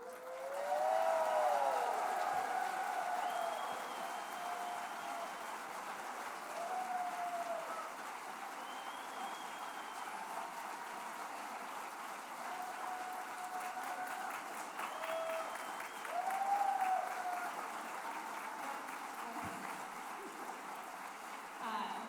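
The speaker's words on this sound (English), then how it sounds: "Let's stand again and clap for our council people and all the yeses that we got tonight." Audience at a Nehemiah Action 2023 community meeting applauding council members, a long steady wash of many hands clapping with voices and faint tones mixed in, swelling in places and continuing throughout.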